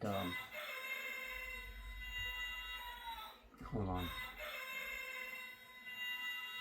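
A clock imitating a rooster crows twice amid steady background hum, with a brief voice speaking near the middle.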